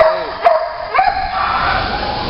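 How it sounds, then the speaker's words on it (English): A young dog barks for attention in a few short, sharp yips spaced across the moment, close and fairly loud, with a dense background hiss underneath. "Well, Mocha's barking for attention."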